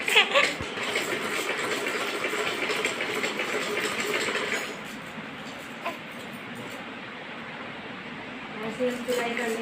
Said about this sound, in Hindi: ऐसे हम सिलाई कर लेंगे इसके लिए।